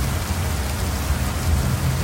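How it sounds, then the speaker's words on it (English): Water from an overhead sprinkler system shoots straight up and falls back down as artificial rain, giving a dense, steady, close hiss of pattering drops with no break. "We have our overhead sprinkler system that shoots that water straight up into the air and falls back down in the air."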